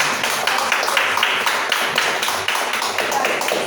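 Congregation clapping for God during a Sunday church service, loud rhythmic hand claps in a steady beat close by, filling the room.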